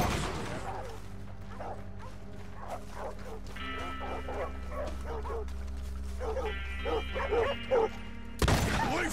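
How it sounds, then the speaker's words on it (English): Several crazed dogs barking and yipping in Red Dead Redemption 2, short sharp barks in irregular bursts over a low droning music bed, with someone shouting among them. "It's not demons. It's just dogs gone crazy."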